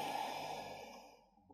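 A single long exhale during a yoga balance session, a soft, breathy sigh that gradually fades out into near silence.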